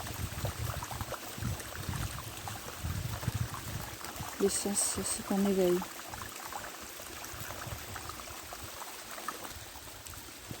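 A brook flows at the Chaos du Gouët in Côtes d'Armor, making a soft steady rushing gurgle with light drips, while a calm voice speaks French over it.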